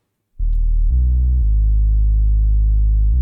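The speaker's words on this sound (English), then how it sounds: "Just a pretty standard sine wave with a bunch of just saturation on it" Saturated sub-bass sine wave, the low layer of a double-layered bass patch, droning steadily and loud after a brief silent lead-in, with harmonics stacking up and two small steps in level and tone along the way.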